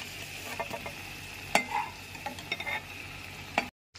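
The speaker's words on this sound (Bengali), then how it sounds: "চিংড়ি মাছগুলো ভেজে নেওয়ার পর ওই একই তেলের মধ্যে কতগুলো গোটা গরম মশলা ফোড়নে দিয়ে দিলাম।" Whole garam masala spices sizzle in hot oil left over from frying prawns, a quiet steady crackle broken by sharp pops and ticks of stirring before it cuts off.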